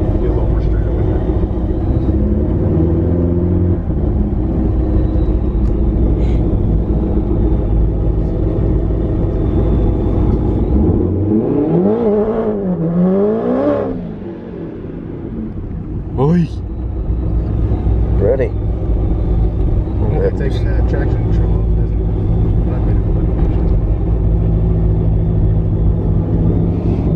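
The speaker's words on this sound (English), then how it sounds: "Just do a quick little burnout." A 2JZ-swapped Toyota Tacoma does a burnout at a half-mile drag event in Abilene, its engine roaring loud and steady with revs climbing and dipping over a deep, continuous rumble.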